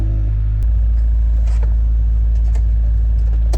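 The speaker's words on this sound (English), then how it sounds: "There's the old idle surge." A Honda Prelude engine idles with a deep, steady low rumble that swells in a slow, rhythmic surge, close and loud with faint cabin rattles and no talk.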